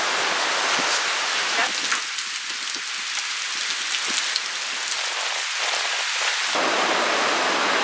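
Heavy rain pours onto rooftops and solar panels in a steady loud hiss with scattered drop impacts, easing slightly midway before returning to full strength.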